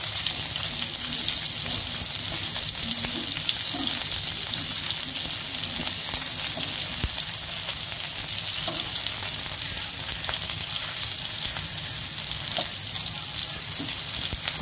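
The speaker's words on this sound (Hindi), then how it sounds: "सारे परवल को मैं इसी तरह से पलट के और फ्राई कर लेती हूँ।" Stuffed parwal (pointed gourd) frying in an oil-filled pan, a steady dense sizzle throughout with faint crackles and occasional soft turning sounds, no talking.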